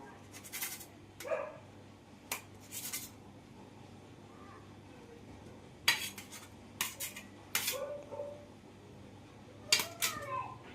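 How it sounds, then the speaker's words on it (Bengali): A knife cuts a boiled egg into small pieces on a plate or board, giving sparse, sharp clinks and taps with quiet gaps between them, close and fairly faint, with no talking. "এবার ডিমটা আমি ছোট ছোট করে পিস করে কেটে নেব এই ছুরির সাহায্যে।"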